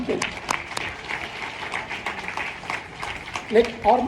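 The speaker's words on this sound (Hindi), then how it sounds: "इसलिए ताली बजाओ" An audience of tribal youth claps together in a steady, dense round of applause, with a few louder claps and scattered voices near the end.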